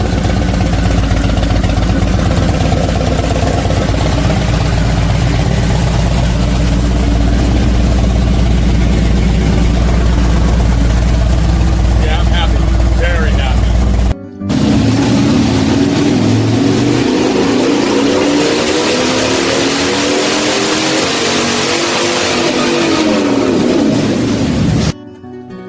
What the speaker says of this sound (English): get my engine back to me just in time to install it, test it, run it, and tune it